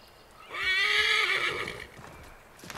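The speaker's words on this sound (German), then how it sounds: "Auf einem Pferd sprinten." A horse in the video game Assassin's Creed III whinnies loudly in a long, wavering neigh that rises and falls, then fades into quiet background noise.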